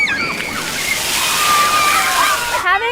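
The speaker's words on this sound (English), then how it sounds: "risten Surowitz, a mom living in Springboro, takes her children out to the local splash pad where they can soak up the sun and water for free." Children playing in water at a local splash pad, with continuous spraying and sloshing water close by and high children's voices and squeals mixed in throughout.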